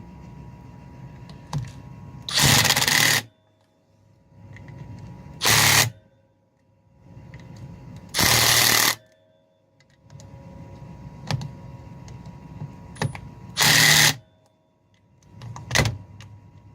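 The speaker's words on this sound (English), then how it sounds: "I'm just going to hit it all with the impact wrench." Impact wrench hammering clutch assembly bolts on a Honda Baby Dream motorcycle, five loud short bursts separated by quiet pauses, close up in a workshop.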